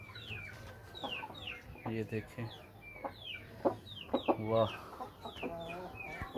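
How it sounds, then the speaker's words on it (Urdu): Japanese rooster breed chickens cluck and chirp in repeated short bursts close by, with someone talking over them throughout. "یہ جاپانی مرغے ہیں ہمارے ماشاءاللہ، بڑے خوبصورت مرغے ہیں جناب"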